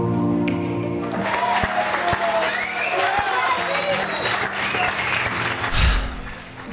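Team members in a EuroNASCAR pit box at Vallelunga applaud and cheer after qualifying, a loud burst of clapping and shouts with someone talking over it and a swell of noise near the end.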